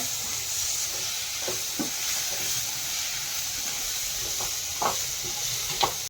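Two small tomatoes sizzle and fry in a pan, a steady, close hiss that runs unbroken throughout with a few faint stirring taps.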